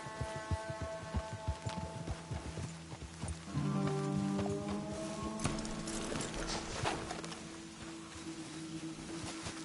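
Horses walk in Red Dead Redemption 2, soft hoof falls sitting under a sustained tonal music bed that swells midway and carries on to the end.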